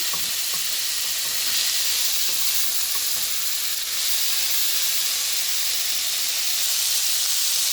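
Mongolian pot rice with colourful mixed ingredients sizzles steadily in a hot pan as it is quickly turned, a continuous close hiss with soft scraping stirs throughout and no talking.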